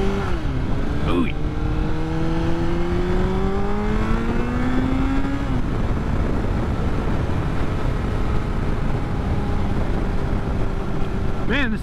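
A motorcycle engine on a night ride around town revs up and drops, then settles into a steady drone with wind noise, close and loud throughout.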